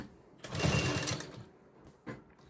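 Close by, a sewing machine stitches blouse fabric in a short whirring burst, then gives a brief second pulse, with no talking.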